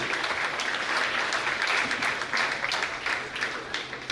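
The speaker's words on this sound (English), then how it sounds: "I request all to please give a big round of applause to the students." Students at a nursing institute's lamp-lighting and swearing-in ceremony receive a sustained round of clapping from the crowd during the sports prize announcements. The applause is dense, even and moderately loud throughout.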